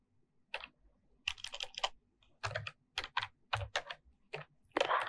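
Keystrokes on a computer keyboard while typing HTML code, quiet close clicks in quick clustered bursts separated by short pauses, with no speech over them.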